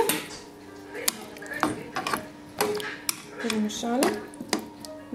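A spoon stirs meat stew in a cooking pot with repeated sharp metallic clinks and scrapes against the sides, irregular and close, with no talking.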